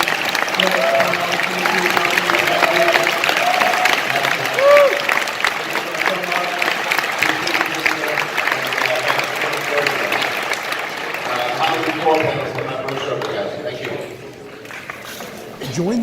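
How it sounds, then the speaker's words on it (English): Convention audience at a Halloween III: Season of the Witch panel applauds the panelists, a dense, steady wash of clapping with scattered cheers that continues for many seconds before thinning slightly near the end. "just give a big round of applause again for our panelists"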